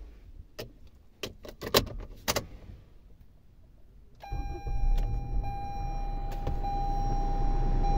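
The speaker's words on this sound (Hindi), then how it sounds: "तो चलो मैं गाड़ी चालू करता हूँ।" Keys clink and jangle in a Toyota RAV4 during climate control repair, followed by the engine starting with a brief crank and settling into a steady, close idle with a warning chime tone.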